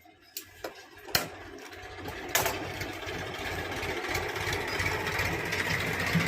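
A sewing machine stitching a Rajputi kurti, opening with a few sharp knocks and clicks before settling into a continuous, fairly quiet motor whir that holds steady to the end.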